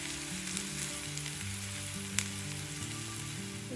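Green chillies frying in hot oil in a pan for chicken fry, a steady close sizzle with a low persistent hum and one brief sharp tick near the middle.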